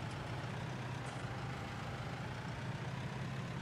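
Tractors in Farming Simulator 19 strain to pull a huge trolley, a steady low engine drone that holds at the same level throughout with no pauses.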